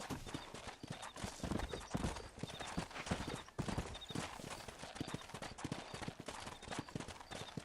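Rapid clip-clop of several horses trotting close by in the video game Red Dead Redemption on PS3, a steady driving rhythm with no pauses.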